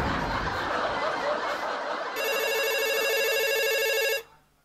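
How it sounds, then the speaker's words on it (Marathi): A mobile phone rings with an incoming call: a steady, bright electronic ringtone pulses for about two seconds over a noisy background of chatter and laughter from a comedy stage show, then cuts off abruptly. "बायको कॉलिंग."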